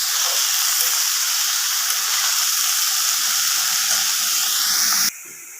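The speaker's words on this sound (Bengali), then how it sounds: "মশলার সাথে কষিয়ে নিচ্ছি।" Red amaranth greens sautéing with spices in a hot pan, a steady, loud broadband sizzle and hiss that holds evenly, then drops off sharply at the very end.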